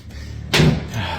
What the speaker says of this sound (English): The cabinets are knocking again.